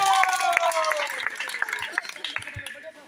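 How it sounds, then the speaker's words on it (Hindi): An audience at a junior quiz competition held by a Durga Puja committee claps in a scattered burst that gradually thins and fades out, with a steady tonal hum beneath the applause. "एक बार जोरदार तालियां हो जाए।"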